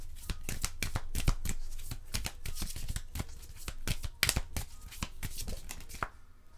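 Tarot cards being shuffled by hand in rapid riffles and slaps, a close, crisp papery flutter with quick bursts that run steadily for several seconds and stop near the end, with no voice.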